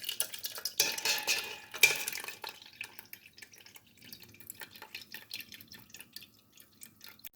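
Homemade Jamaican June plum and cucumber juice is strained, with liquid dripping and trickling into a container alongside light clinks of utensils, busier and louder in the first few seconds, then softer scattered drips.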